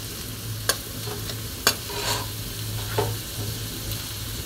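Onion lightly frying in a pan gives a steady close sizzle, broken by a few sharp clinks and scrapes of stirring, with no voices.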